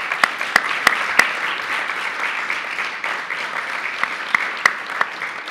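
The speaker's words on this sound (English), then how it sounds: "Give this gentleman a big round of applause for doing that." Audience applause at a talk, steady and fairly loud clapping from a crowd that carries on without a break, with a few sharper claps standing out near the front.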